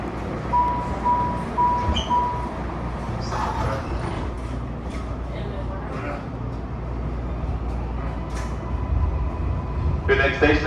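Inside an eastbound MARTA Green Line metro train, a steady rolling rumble fills the car, with faint clanks and brief squeals rising over the constant ride noise.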